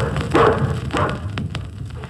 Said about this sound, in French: Et t'as le chien qui se fâche.